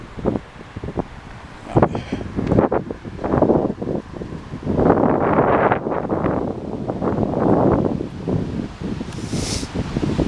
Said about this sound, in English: Now I'm really going into the wind now